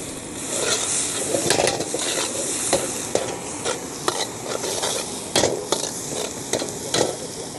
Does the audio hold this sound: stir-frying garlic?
yes